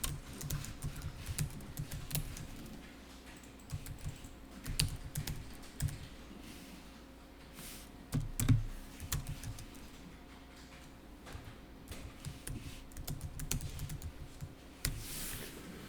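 An address is typed on a computer keyboard: quiet, irregular bursts of key clicks continue throughout, near and fairly soft, with short pauses between runs of keystrokes.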